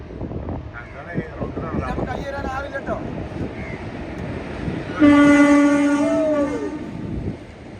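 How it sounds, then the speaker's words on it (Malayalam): A train horn blasts loudly midway and holds for a couple of seconds over the rumble of a goods train's freight cars rolling past, with voices talking in the first half. "അതിന്റെ പേര് ഗുഡ്സ് ട്രെയിൻ"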